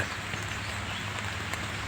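Rain falling in Ecuador, a dense, steady hiss of drops pattering on surfaces, continuous and even throughout with no voices.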